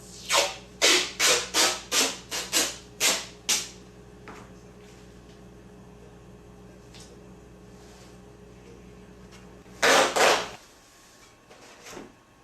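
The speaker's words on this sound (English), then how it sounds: "Time to clamp with tape." Tape pulled off the roll and pressed down to clamp the parts of a cheap homemade proton pack, a run of seven or eight sharp ripping strips, then quiet, then one more loud tear near the end.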